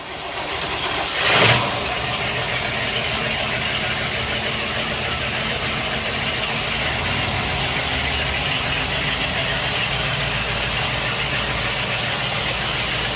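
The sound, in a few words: Sea Ray 330 Sundancer boat motors starting and idling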